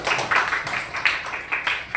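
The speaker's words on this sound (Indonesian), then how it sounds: "Tepuk tangan untuk kelompok 4." A classroom of students claps for group 4, a short burst of dense, uneven hand claps that rises and falls in quick pulses over two seconds.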